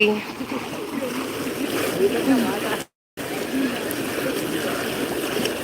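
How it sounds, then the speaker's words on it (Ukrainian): Steady rushing water fills the scene with a constant broadband flow, briefly cut to silence midway before resuming. "послухати шум води."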